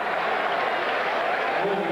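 Crowd applause at a 1995 Memphis vs Tulane college football game, a broad steady wash of clapping that holds for the whole stretch, with a commentator talking over it.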